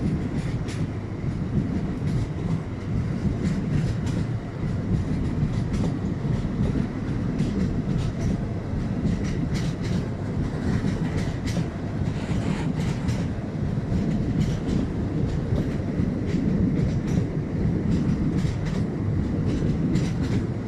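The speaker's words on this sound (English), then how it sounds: "Boy, this is some long train." A long train rolls steadily over a railroad track near a fishing spot, its loud, continuous rumble and rhythmic clickety-clack of wheels on rail joints sustained throughout without letup.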